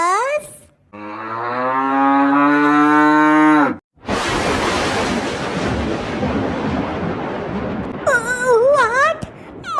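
Cartoon cow moo beside a bullock cart in a Tamil animated comedy, a long loud bellow followed by a burst of noisy rumble and then short warbling squeaky effects near the end.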